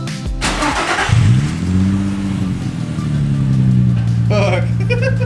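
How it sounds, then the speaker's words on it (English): An Infiniti G35 fitted with an ISR single exit exhaust cranks briefly, then catches and settles into a loud, steady idle, close up with a few faint sounds near the end. "now it's time to start it up and see what it sounds like"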